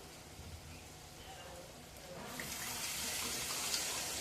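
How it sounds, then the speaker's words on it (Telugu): Tamarind juice poured into a cooking pot for an egg and dried-fish curry, a faint steady liquid pour that grows louder and fuller midway through, in a quiet kitchen. "దీంట్లో చింతపండు పులుసు పోసేసుకుందాం"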